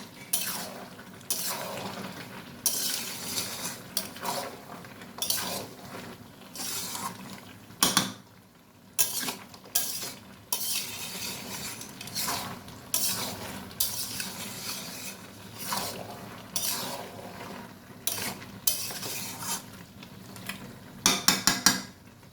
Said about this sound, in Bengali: আমি কয়েকটা সবজি এরকম করে ঘেটে দেবো।